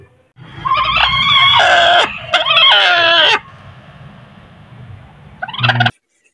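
Hens in a coop raise loud, close clucking and squawking calls in two long bursts, then a quieter stretch with low background rumble, ending in another short cackling burst.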